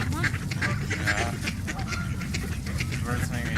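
Pet birds call nearby with repeated honking, quacking squawks over a busy background, while people talk at the same time.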